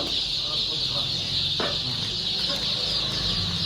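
Day-old chicks cheeping during vaccination against Marek's and Gumboro disease, steady high peeping from a group close by, with a person talking over it.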